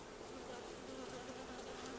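Honey bees fill a hive with a steady, dense buzz that hums continuously and evenly throughout, close and unbroken, with no voices over it.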